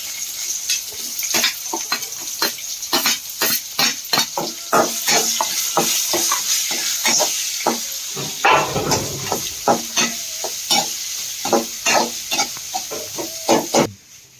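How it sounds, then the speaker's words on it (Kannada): Onions with fresh ginger frying in a hot pan, a steady sizzle broken by repeated stirring scrapes and clacks in an uneven rhythm, close and fairly loud, with no talking. "ಉಳ್ಳಾಗಡ್ಡಿ ಅದು ಮಸ್ತ್ ಫ್ರೈ ಆಗೈತಿ"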